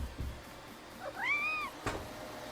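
A cat gives one clear, rising-and-falling meow asking for food, close by in a quiet indoor room with faint background noise.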